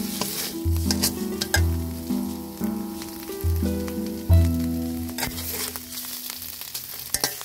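Lentils frying in a pan over medium heat for a Bengali ghatkol leaf paste, a steady close sizzle broken by several sharp scraping stirs with no voices.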